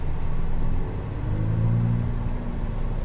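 A supercar on a track-day circuit, driver in third gear, with a steady low engine rumble and a rising tone as it accelerates, continuous and close.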